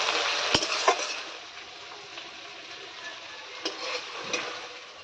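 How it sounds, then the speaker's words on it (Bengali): Ginger and garlic paste sautéing in a pan as chicken curry is prepared, a steady soft sizzle with a few sharp spoon scrapes and clinks against the pan. "আদা রসুন দিয়ে ভালো করে কষিয়ে নিতে হবে, যাতে আদা এবং রসুনের যে কাঁচা গন্ধটা চলে যায়"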